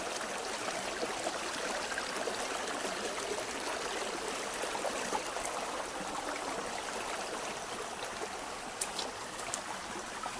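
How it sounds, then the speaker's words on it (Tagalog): Clear stream water flowing on a farm, a steady broad rushing and babbling wash that holds constant throughout, close and fairly loud, with no voices. "Linaw ng agos ng tubig."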